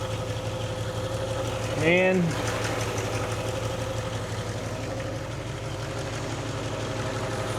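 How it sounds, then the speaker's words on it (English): A 62-year-old Ford 260 V8 engine idles steadily with a low, even rumble; a short voice and a brief rising whine break in once near the start. "For a 62-year-old Ford 260, she sounds pretty clean."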